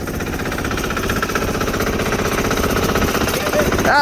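A 6HP diesel engine on a Sears Suburban loader idles with a rapid, loud, chattering knock, running steadily and close throughout.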